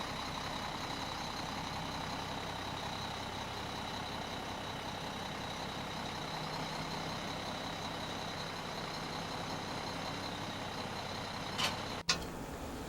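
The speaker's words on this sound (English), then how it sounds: "Once more, the truck will be connected to the bolster" A truck engine idles and rumbles steadily during a house move as the truck maneuvers to hook up to the house-moving bolster, with a brief sharp clank near the end.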